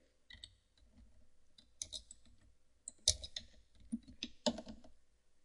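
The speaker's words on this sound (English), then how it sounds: "well, it could help if I typed" Clicky bursts of typing on a computer keyboard come in short irregular clusters with pauses between, close and fairly quiet, with no speech.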